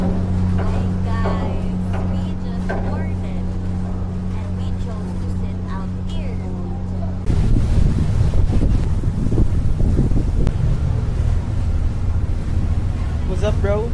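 On a passenger ship crossing the sea, steady wind buffets the microphone over a low engine drone and wash of water, with people talking faintly in the background and the wind growing rougher halfway through.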